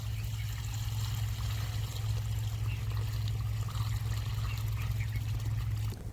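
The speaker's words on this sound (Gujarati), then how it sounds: "હવે આમાં નાખી દઈએ પાણી" Steady water pouring and trickling onto plants close by, a continuous splashing stream over a low background hum.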